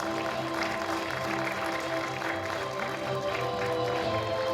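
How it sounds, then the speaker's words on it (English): Sustained applause from an audience at an awards ceremony, a steady wash of many hands clapping at moderate volume, mixed with a low hum of background music. "With a huge round of applause, can we welcome sir as well?"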